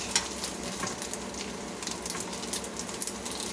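Snack-size Mrs. T's pierogies and red onions sauteing in a pan, a soft, steady crackling sizzle with light popping spatters throughout, fairly quiet and close.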